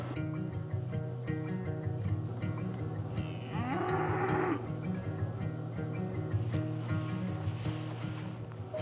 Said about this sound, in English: I can still occasionally hear a cow.